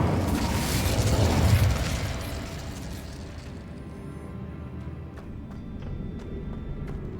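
Incendio fire spell cast in Hogwarts Legacy, a loud rushing burst of flame that swells, then fades into a quieter crackling, rumbling tail with small pops and clicks.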